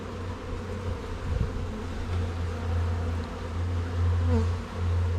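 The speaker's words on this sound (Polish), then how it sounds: "Młoda raczej pszczoła bym powiedział." Honey bees buzz in a hive body while frames are inspected, a close, continuous droning hum with shifting intensity and no talk over it.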